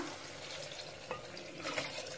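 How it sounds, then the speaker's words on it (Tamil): Water runs quietly into a cooking pot for rice, a low steady gurgling splash with a few brighter spatters, faint and without any talk. "ஃபஸ்ட் தண்ணி ஊற்றிடலாம்"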